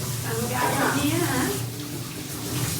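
A gas stove is washed under running water in a home kitchen, giving a steady, close splashing rush of water throughout while a person talks over it.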